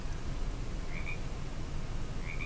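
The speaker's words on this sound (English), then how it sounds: "Just a regular frog." Small frogs in The X-Files Game, identified as peepers, give two short, high chirping calls about a second and a half apart over a steady, hissing night-time ambience.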